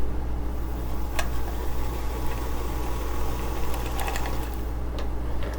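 A home sewing machine winds a bobbin with a steady, close motor whir and a low vibrating hum, plus a few faint clicks and ticks over the continuous drone, with no voices.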